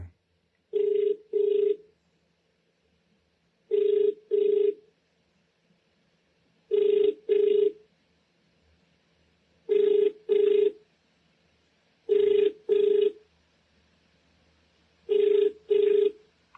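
An outgoing phone call rings back with paired double-burst tones repeating about every three seconds, clear and electronic, against near silence between the rings.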